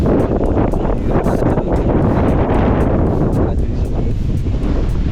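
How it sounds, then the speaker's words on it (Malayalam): Strong wind buffets the microphone in a constant low roar on a hilltop with paddy fields near Thenkasi, with rumbling gusts filling the whole clip. "ഇവിടെ നെല്ല് കിടന്ന് അനങ്ങുമ്പോൾ നമുക്ക് മനസ്സിലാക്കാൻ പറ്റും എത്രത്തോളം കാറ്റുണ്ടെന്ന്"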